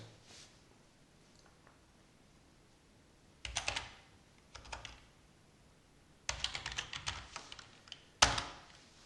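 Several short bursts of quick keystrokes on a computer keyboard, close and crisp, separated by quiet gaps and ending with a single sharp, heavier press of the Enter key, with no talking.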